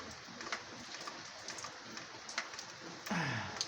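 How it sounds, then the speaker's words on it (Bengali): Steady, soft hiss of rain falling, with a dove cooing briefly near the end. "হঠাৎ এক পশলা বৃষ্টি"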